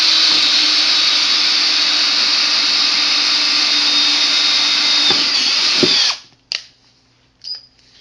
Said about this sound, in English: what I'm going to do is take my drill and drill a couple holes here for these bulkheads